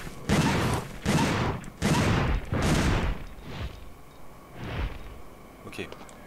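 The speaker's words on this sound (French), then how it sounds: "Et elle a une mitrailleuse qui fait sacrément de dégâts." A machine gun fires in Dino Crisis 2, in four long, loud sustained bursts, then a fainter fifth burst, with quieter game sounds between.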